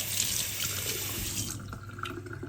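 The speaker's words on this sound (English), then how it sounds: "You can put that cloth completely in water" Cloth being dipped into water, a broad splashy, running-water wash that continues steadily for a couple of seconds, close and moderately loud with no talking.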